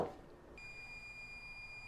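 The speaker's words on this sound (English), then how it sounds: "there went my timer on my second cooking period for the chicken" A kitchen timer goes off while chicken roasts, giving one sustained high electronic beep tone that starts about half a second in and holds steady to the end over a quiet room.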